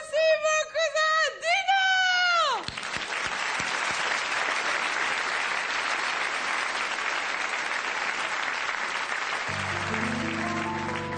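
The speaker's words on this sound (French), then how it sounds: "je vous demande de l'applaudir très fort" Audience applause at a French variety show, dense sustained clapping from a crowd filling the space steadily, following a singing voice at the start and joined by music near the end.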